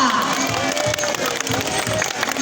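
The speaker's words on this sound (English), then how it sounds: "round of applause" A crowd claps and cheers in a continuous, dense burst of applause at a sea lion show, fairly loud and sustained throughout.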